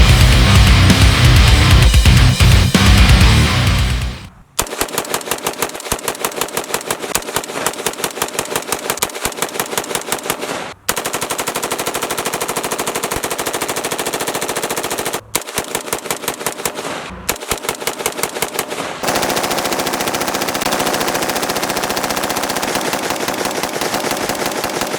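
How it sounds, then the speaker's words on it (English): Rapid rifle fire during a 500-round burn-down test, heard as long, loud, rapid strings of shots separated by brief pauses for reloading, close and sustained, with no talking. "So I'm going to do 500 rounds accelerated as quickly as possible."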